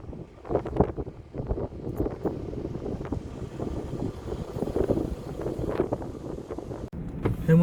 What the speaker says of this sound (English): filming it from inside because the wind is terrific